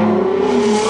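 A modified car nicknamed the Cherugini, a Lamborghini-style mod, its engine giving a brief, loud, steady revving drone with a strong tonal hum, close by.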